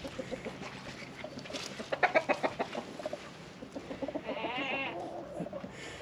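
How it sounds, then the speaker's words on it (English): A chicken clucks in a barn it shares with Kiko goats in cold, wet weather, its rapid near clucks mixing with goat bleats and one drawn-out bleat rising toward the end. "This chicken stays in here with these goats."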